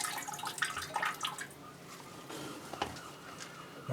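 A potted orchid soaked in water, with soft splashing, dripping and trickling in irregular bursts close by and fairly quiet.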